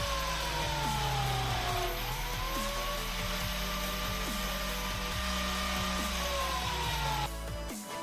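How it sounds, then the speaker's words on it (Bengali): Grinder machine sharpening the tips of copper wires, a steady motor whine with a tone that dips and rises, under repeated short grinding scrapes, cutting off near the end. "কপারের ওয়্যারগুলির আগাটা খুব ছুচলো করার জন্য আমরা গ্যালেন্ডার মেশিন দিয়ে জাস্ট এটাকে ঘষে ছুচলো করে নিচ্ছি।"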